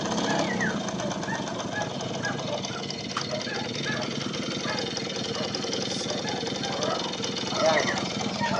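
Vintage Suzuki FR50 motorcycle engine running at a steady idle, a loud, continuous rapid putter close by, with people talking over it.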